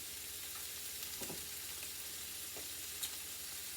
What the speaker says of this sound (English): we're just going to let this finish cooking and stirring around